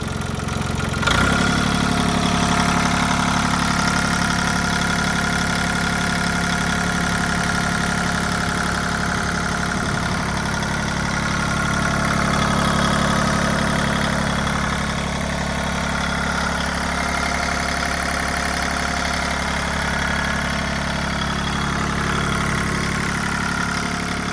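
Close, loud and steady engine drone from a Mitsubishi MTR-300 mini tractor under added throttle, holding a constant running note with slight swells throughout and no voices.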